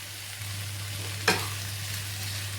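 Potatoes and peas added to onions in a pan, sautéed lightly with a steady sizzle and one sharp scrape or stir partway through, over a constant low electrical hum.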